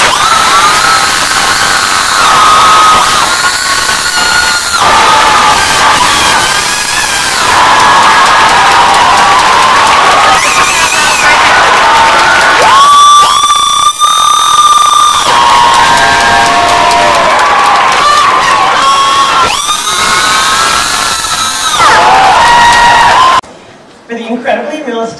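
A festival audience at a state final theatre competition claps and cheers loudly and continuously for about 23 seconds, with shrill whoops and shouts rising above the applause before it cuts off abruptly near the end.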